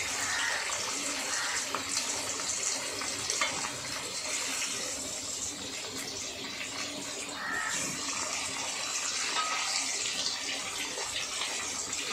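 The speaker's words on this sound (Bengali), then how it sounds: "চলো আলুগুলো এইভাবে কেটে ধুয়ে আমরা" Cut potatoes being washed under running water, a continuous rushing splash of tap water with sloshing and handling sounds throughout, fairly close and steady.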